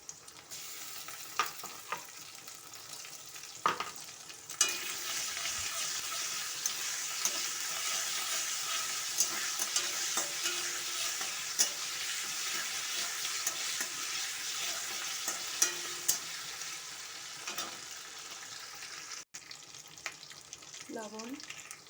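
Whole garam masala with onion-ginger-garlic paste frying in hot oil, a steady broadband sizzle running throughout with occasional stirring scrapes and clinks close by, ending with a brief pause and a few utensil knocks.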